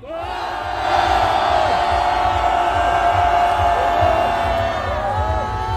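A large crowd at a Korean candlelight street rally roars and cheers in one sustained, loud collective shout lasting several seconds, with whoops rising out of the mass of voices.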